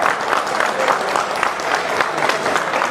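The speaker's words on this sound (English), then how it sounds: "Could you please give her a hand clap of warm praise?" Comic con audience gives warm applause to a speaker, many hands clapping together in a loud, continuous, slightly pulsing wash of sound for the whole stretch.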